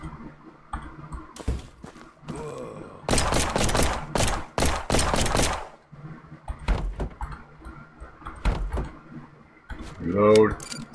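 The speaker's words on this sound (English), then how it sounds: "that's me switching weapons" Weapon switching in an old-school survival video game, a quick run of sharp clicks and metallic clacks in the middle, set among scattered thuds and game sounds.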